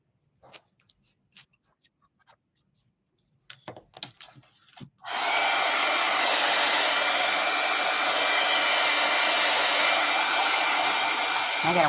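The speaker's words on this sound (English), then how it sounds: "It's a good thing I have a dryer, right?" After a few seconds of soft scattered handling noises, a hair dryer switches on abruptly and roars loud and steady nearby while drying an Easter bunny craft.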